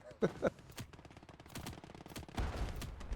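Gunfire in the Gates of Hell war game, set in a 1945 street battle: two sharp shots open the clip, followed by scattered bursts and a denser rattle of fire toward the end, with no talk.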